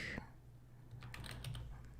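Faint typing on a slow computer keyboard during a live stream, with a handful of soft, irregular key taps and light clicks over a low background hum, and no talk over the keys.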